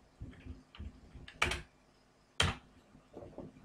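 Keys on a computer keyboard clack in brief, sparse bursts as text is typed into a browser search page, quiet and close with a couple of louder strikes.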